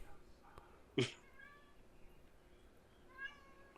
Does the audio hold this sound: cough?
no